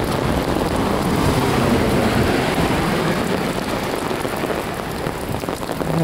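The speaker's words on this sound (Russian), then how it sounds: "Ливень фигачит." A heavy rain downpour during a spring thunderstorm hammers down steadily and loudly, a dense unbroken roar of water with no voices.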